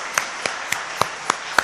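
A church congregation claps together in a slow, even rhythm, six distinct claps spaced about a quarter second apart, moderately loud in a reverberant hall.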